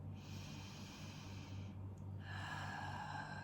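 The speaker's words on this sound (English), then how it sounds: "take a deep breath." During a guided meditation someone takes a deep breath, a soft airy inhale and exhale heard faintly over a steady low ambient drone with sustained tones.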